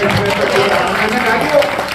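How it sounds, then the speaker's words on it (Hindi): Audience applause at a Hindi poetry gathering (kavi sammelan) in Muzaffarnagar, a steady wash of clapping from a crowd lasting the whole two seconds with a slight swell near the end. "बजा दो थोड़ी सी तालियां,"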